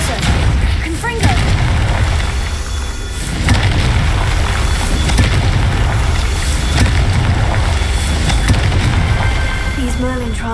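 Fiery blasts of the Confringo spell in Hogwarts Legacy, booming explosions recurring over a dense roar of combat noise, loud and close, with a voice speaking briefly.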